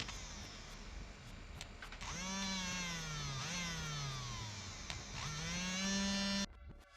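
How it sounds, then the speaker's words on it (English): A DC power drill whines steadily, its motor pitch dipping and rising as it bites into perfboard, enlarging holes, with short clicks before it starts and an abrupt stop near the end. "I'm going to use this DC power drill to drill out these holes to make them a little bit bigger"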